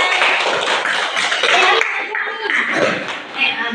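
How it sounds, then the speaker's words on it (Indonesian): A classroom of seventh-grade students applauds at the teacher's prompt, a dense, steady clatter of many hands clapping close by for nearly four seconds, with a few voices mixed in. "Oke, beri tepuk tangan."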